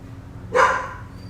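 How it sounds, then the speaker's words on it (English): A single sharp dog bark rings out over a steady low engine hum, loud and close, then fades quickly. "Oh, that dog is just absolutely insane."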